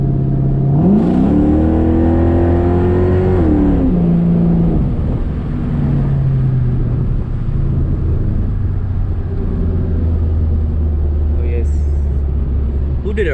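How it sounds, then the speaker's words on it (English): A 2004 Ford Mustang GT V8 revs hard with a rising, then falling pitch during a burnout on the street, followed by a sustained loud rumble and engine drone as the car carries on, with a voice briefly heard. "Did a burnout right here."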